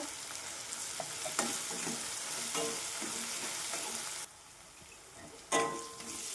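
Turmeric, red chilli, kitchen king and onion-garlic masala frying in a pan for a masoor dal and onion dish, a steady bright sizzle with stirring scrapes that briefly drops quieter, then a sharp stir brings it back.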